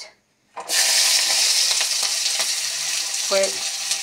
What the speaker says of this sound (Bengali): বাইম মাছগুলি রান্নার জন্য কড়াতে তেল দিয়ে দিচ্ছি। এখন দিয়ে দিচ্ছি পেঁয়াজ